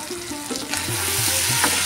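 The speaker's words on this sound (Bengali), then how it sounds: "ভালো করে নেড়ে চেড়ে নিচ্ছি" Potatoes with spices sizzle and fry in a pan while being stirred for a chicken and potato curry, a steady close hiss with scraping stir strokes, no voices.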